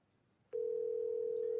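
A telephone line sends out a steady, unbroken electronic tone that starts suddenly and holds at an even level. A faint quiet hum sits underneath it before the tone begins.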